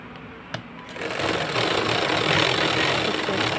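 Sewing machine joining a hook strip on an embroidered blouse, starting after a faint click and running as a steady, close, loud mechanical whir for the rest of the moment.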